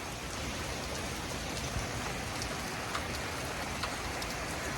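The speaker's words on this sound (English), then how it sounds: "So we've been seeing heavy rain again, continuing." Heavy rain pours steadily during a severe thunderstorm, a dense continuous hiss of drops hitting surfaces with a few brief louder splashes, close and even throughout with no voices.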